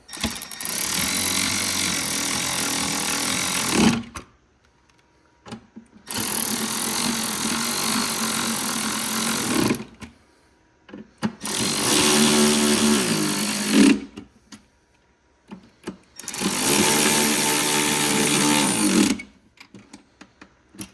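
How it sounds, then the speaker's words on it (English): A power tool drives T25 bolts into an AMG M133 intake on a CLA45, GLA45 or A45, running loud and close in four sustained whirring bursts of a few seconds each, separated by short quiet pauses. "we can actually put these T25 bolts back in."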